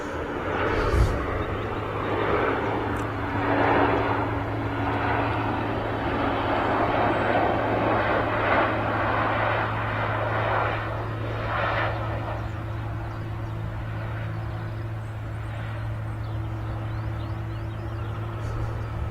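Aircraft engine noise at Manchester Airport, a steady broad roar with a low drone, heard at a distance under occasional talk.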